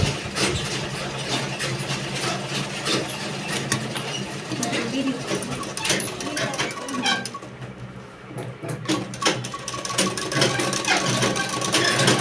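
A sewing machine stitches a straight seam along a fabric border joined to a short sleeve, running in a steady continuous whir with a brief pause near the end; no talking is heard.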